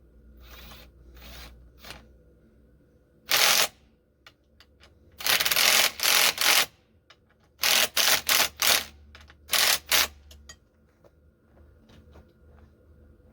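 Bolts on the bottom of a 1998 Yamaha YZ400F fork are tightened with a ratchet, heard as several loud, close bursts of rapid clicking separated by quiet pauses, with no talk.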